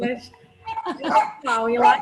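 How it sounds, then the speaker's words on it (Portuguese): Several dogs barking, yipping and whimpering in a home office setting, loud close bursts mixed with a person talking over them. "os cachorros aqui, vocês estão ouvindo eles?"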